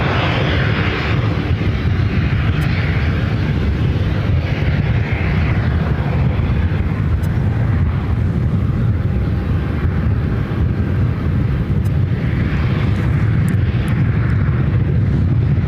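A Metroliner turboprop airplane at Ontario airport in California makes a continuous, loud engine roar with a deep rumble that holds steady throughout, heard from a distance with no talking.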